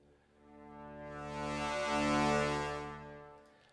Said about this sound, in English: another sound, which is four trombones and two tubas.